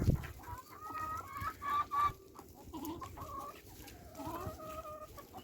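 A fat, older hen that has stopped laying, kept among other farm chickens, gives a series of soft, irregular clucks and short calls at moderate distance, with faint barnyard background and no voices.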